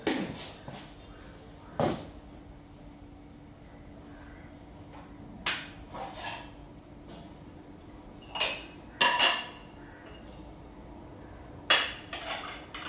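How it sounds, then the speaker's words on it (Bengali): Scattered sharp clinks of a spoon against cups ring out while sugar goes into coffee, close and sparse over a quiet room background. "আর কফির ভিতরে আগে চিনিও দিয়ে দেবো। চিনি দিয়ে দিচ্ছি কফির।"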